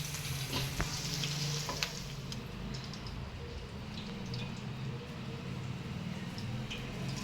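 Fish deep frying in hot oil, a continuous crackling sizzle with small pops and occasional spatters, close and steady throughout.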